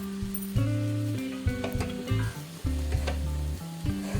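Ragi upma mixed with coriander leaves is stirred in a pan, producing a soft sizzle and scraping under a strong musical tone, with repeated bursts of stirring.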